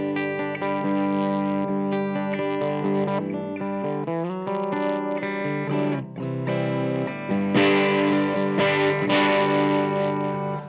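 Electric guitar played through a Line 6 Helix modelling a Gibson EH-185 amp with the guitar volume rolled back, giving sustained chords and single-note lines with mild grit and a touch of echo, alone without talk.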